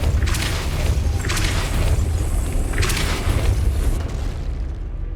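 A Depulso spell cast in Hogwarts Legacy lands as a series of loud, deep booming blasts, three or four bursts spaced about a second apart over a continuous low rumble.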